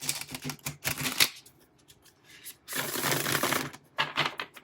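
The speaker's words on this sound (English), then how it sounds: "Let's do a shuffle." Tarot cards riffle and shuffle in quick, crisp bursts close up, with a short pause between two rounds of shuffling and no voices.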